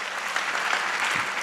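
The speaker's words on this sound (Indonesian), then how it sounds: "Coba tepuk tangan bagi Tuhan" Audience applause at an Indonesian testimony talk, a dense steady clapping from a crowd that fills the whole moment without letting up.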